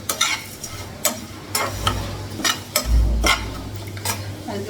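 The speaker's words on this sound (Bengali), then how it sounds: "ওটসটা একটু হালকা ভেজে নেবো তাতে দুধটা লাগাবো" Oats lightly frying in a pan, with a utensil stirring and scraping in repeated clinks and a low steady hum underneath. Close and fairly loud, with no talking.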